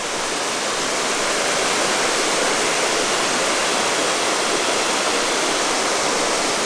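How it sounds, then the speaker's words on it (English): Spring water gushes from the ground at Turners Mill Spring in Oregon County, Missouri, making a steady, loud, close rushing roar like a small waterfall that holds constant throughout. "spring jumping out right here, out of the ground"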